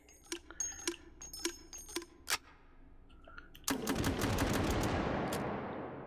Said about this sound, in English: Open up, push out, stick in the rounds, close, grab, fire.